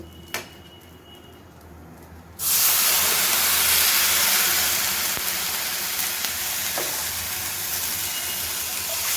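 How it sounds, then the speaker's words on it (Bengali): Boiled, thickened milk is poured into a pan of fried vermicelli and breaks into a sudden loud hiss and steamy sizzle that holds strong and steady, after a quiet start with a single click. "এবারে আমি দুধটা দিয়ে দেব।"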